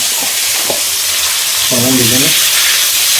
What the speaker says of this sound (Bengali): প্রথমে মাছগুলো ভেজে নেবো সুন্দর করে দেখুন মাছগুলো দিয়ে দিই মাছগুলো